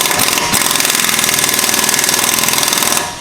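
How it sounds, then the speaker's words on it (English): An air impact wrench hammers continuously at close range, a loud, rapid rattling burst lasting about three seconds before it cuts off. "love getting out the air impact because NASCAR"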